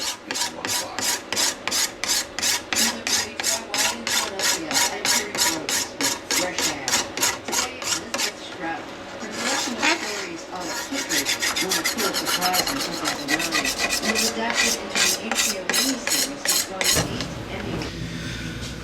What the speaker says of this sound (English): After that, be lightly abrading it with a hacksaw blade.